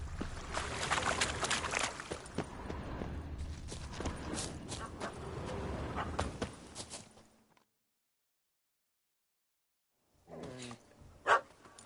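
A puppy barking in The Witcher 3 video game, several yaps at moderate distance over ambient game sound for the first seven seconds, then silence before brief faint sounds return.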